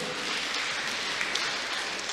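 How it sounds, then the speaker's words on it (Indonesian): Steady, dense clapping from a seminar audience of church members and officials, a broad even wash of applause with no speech over it. "Tepuk tangan dulu,"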